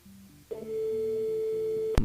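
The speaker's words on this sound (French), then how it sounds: "Il sonne, mais il répond pas." A telephone line tone rings on, unanswered, during a radio broadcast call: a steady electronic beep holds for over a second, with faint background tones, then ends with a sharp click.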